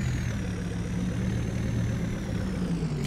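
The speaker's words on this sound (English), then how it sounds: "turn your extremely loud engine off" Extremely loud tractor engine idling in Farming Simulator 22, a steady low rumbling drone with a faint whine above it, continuous and even throughout.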